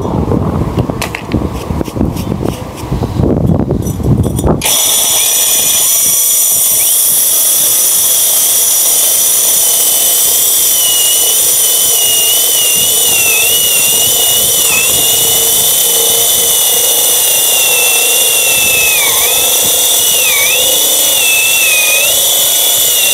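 A battery-powered core drill with a 60 mm bit runs on a Hukan high-discharge battery, starting with gritty, rough cutting noise for a few seconds, then settling into a loud, steady motor whine with a wavering pitch throughout.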